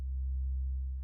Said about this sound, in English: the more frequencies you cut out, the more the waveform starts to look like a sine wave